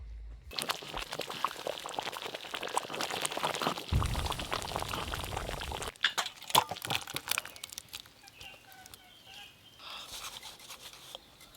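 Thick potato curry (aloo dum) made with ground Gobindobhog rice is poured and scraped out of a pan, giving close, wet sloppy sounds followed by scattered clinks and scrapes of the utensil.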